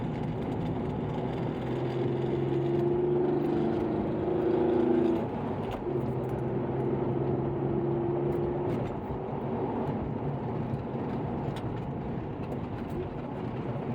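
Car engine climbing Palomar Mountain's South Grade in a cruise ascent, a steady close drone with harmonic tones rising and falling as the driver brakes and rev-match downshifts into corners.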